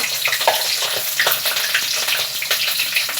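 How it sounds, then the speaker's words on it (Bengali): Green chillies hitting hot oil in a wok sizzle and crackle steadily, a dense close frying hiss with small pops and occasional stirring scrapes, no voices. "তেল গরম হয়ে গেছে, কটা কাঁচা লঙ্কা দিয়ে দিলাম"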